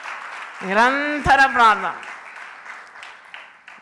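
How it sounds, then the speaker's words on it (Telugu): A church congregation claps during a Telugu prayer service, a steady wash of clapping rising after a voice speaks over the start, then fading gradually. "చప్పట్లు గట్టి కొట్టి దేవుని స్తుతించండి."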